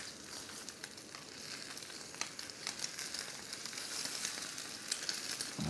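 Eggs frying on a Jetboil MiniMo camp stove give a steady, soft sizzle with fine crackling, holding an even level throughout with no voices.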